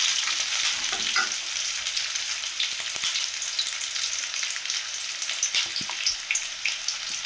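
Curry leaves crackle and sizzle loudly in hot oil, with sharp pops and stirring taps scattered through a dense, continuous frying hiss.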